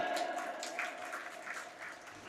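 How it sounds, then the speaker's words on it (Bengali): Applause from a small audience at a school farewell ceremony, clapping for a student; steady, moderately faint clapping lasts throughout with a faint tonal hum underneath. "তুমি ওয়েট করে তালি দাও ওর জন্য একটা"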